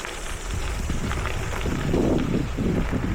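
Strong wind roars continuously across the microphone while cycling the Remutaka Rail Trail on a gravel ride, a loud, buffeting rush with no break.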